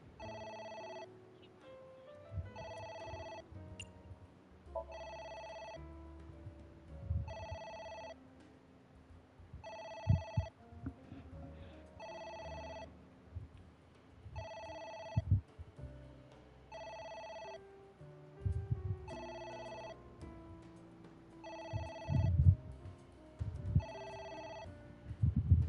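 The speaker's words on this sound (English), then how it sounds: "It's ringing again." A telephone rings over and over in a steady rhythm, about eleven evenly spaced electronic ring bursts, fairly soft, with scattered low thumps and faint background noise between them.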